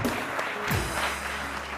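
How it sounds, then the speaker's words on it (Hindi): Applause from a studio audience on a TV morning show, a short, steady burst of clapping with a faint voice mixed in. "बहुत सारी तालियां इनके लिए"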